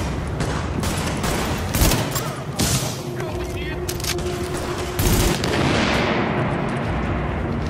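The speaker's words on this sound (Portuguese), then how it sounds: "Mano, é muito tiro, cara." Heavy gunfire in the shooter The Division, dense bursts of rapid shots and thuds filling the clip, loud and close, with a voice talking over it.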